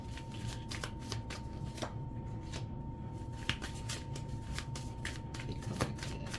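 A deck of cards is shuffled for a card reading, a continuous run of quick, soft riffles and flicks close up at low volume over a faint background hum, with no voices.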